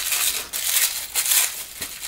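Tissue paper from a Secret Santa gift package crinkles and rustles in bursts as it is unwrapped by hand, close and fairly loud with no talking.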